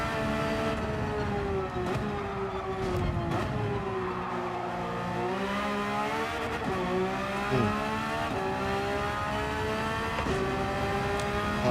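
A Porsche race car laps Mount Panorama in Gran Turismo 7, its engine whining up through the gears in rising and falling tones with brief shifts and light tire noise, steady and close with no talk.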